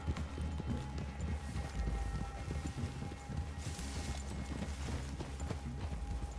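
Horse hooves clip-clop steadily at a brisk pace in Red Dead Redemption 2, a continuous rhythmic clatter with a faint hum underneath.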